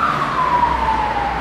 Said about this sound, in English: that siren just going past